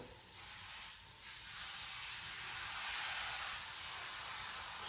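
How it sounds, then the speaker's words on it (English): Close, steady hissing spray of cleaner onto an electric spin scrubber brush, with a few surges in strength like repeated pumps of a spray bottle, against a faint background hum. "just spray quite a bit on it"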